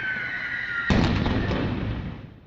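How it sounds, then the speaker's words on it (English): Gunfire and explosions dispersing a crowd of protesters in Russian-held Energodar, Ukraine: a steady tone gives way to one loud, sudden blast that rumbles and slowly fades. "Gunfire and explosions disperse a crowd of peaceful protesters in Russian-held Energodar Saturday"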